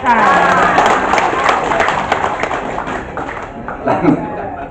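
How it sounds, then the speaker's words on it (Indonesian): Audience applause for Hari Ginanjar at an Indonesian gathering, a loud, dense wash of clapping from a crowd that fades slightly toward the end, with some voices and cheering mixed in. "Tepuk tangan buat Kak Hari Ginanjar, konsisten dengan TSQ."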